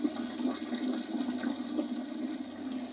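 A toilet flushes in the Courage the Cowardly Dog video game, a steady rushing, gurgling water wash with no talk over it.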